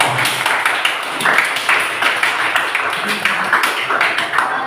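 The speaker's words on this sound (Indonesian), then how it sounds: "Kita berikan tepuk tangan untuk diri kita sendiri." A classroom of students claps for themselves, a dense, steady clatter of many hands that rises and falls in waves across the whole stretch, fairly loud and close.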